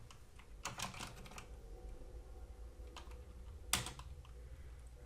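Computer keyboard keys clicked in quick bursts of typing, faint and close, entering terminal commands during a hacking exercise, with quiet gaps between bursts.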